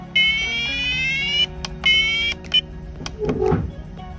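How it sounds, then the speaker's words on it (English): A radon mitigation system alarm in a home goes off on its own, sounding loud, shrill, repeated electronic beeps in bursts with short gaps, followed by rustling and handling noises near the end. "Sometimes I don't know why this turns on its own randomly and the alarm goes off."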